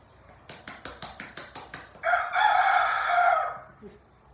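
A rooster crows once, loud and close, its long drawn-out call running about a second and a half after a quick series of rhythmic taps.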